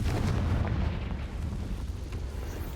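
Spell explosions from the Confringo curse in Hogwarts Legacy, a dense, loud rumbling blast that fills the whole moment with continuous booming and crackle, no voices over it.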